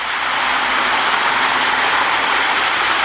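Two Lionel MPC NW-2 model switcher locomotives run together on a track with a steady, close, even whir of small motors and a faint rhythmic clatter from the rails. There is no talk.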